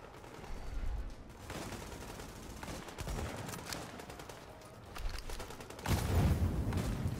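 Gunfire in the video game Tom Clancy's The Division, with repeated bursts of shots, some louder booms, and a heavy blast near the end, all fairly quiet in the mix.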